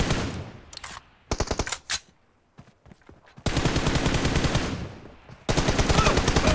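Rapid automatic gunfire in a PUBG match, several loud bursts of machine-gun fire with brief pauses between them, followed by long sustained volleys close by.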